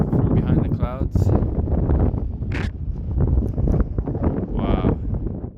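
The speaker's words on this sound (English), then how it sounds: "It's just so windy, really beautiful" Strong wind buffets the microphone on a mountain ridge during a hike, a loud, continuous roar with gusty swells, while a person talks over it.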